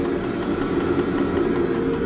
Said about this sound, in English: the actual pump, which is that slight tapping sound